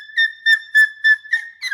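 A person imitates dolphin calls with a series of six short, bright whistled squeaks, each about a fifth of a second long, evenly spaced and up close with no other sound.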